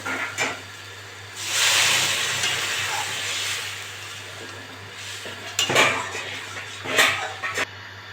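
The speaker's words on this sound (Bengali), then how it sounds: "আমি এবার জল দিয়ে দেবো" Water poured into a pan of frying potato and soybean curry raises a loud, sustained hiss and sizzle, followed by a few sharp clinks of a utensil against the pan.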